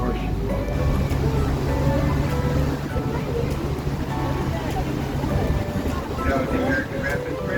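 The Niagara River thunders over the American Falls and through the rapids in a loud, continuous roar of rushing water, with low engine rumble and a voice speaking over it.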